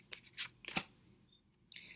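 Scissors snip a small hole through folded paper, a few short crisp cuts with quiet pauses between them, close and fairly faint, with no talking.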